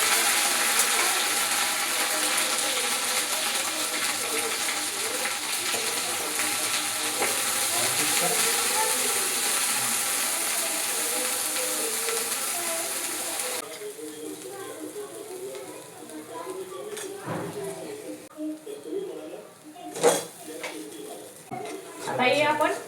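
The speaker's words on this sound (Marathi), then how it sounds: "आता हे आपण तेल सुटस्तोवर चांगली परतून घेऊ" Onion, tomato, ginger and garlic paste sautéing in hot oil for matar paneer, a steady broadband sizzle for the first half that drops to softer crackling with scattered clinks of a utensil against the pan.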